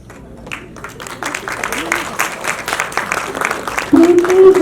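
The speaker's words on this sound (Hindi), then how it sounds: "जोरदार तालियां इन बच्चों के लिए।" Audience applause for children being honoured at a charitable foundation's event for the needy, a steady crowd clapping rising in loudness, with a voice talking over it.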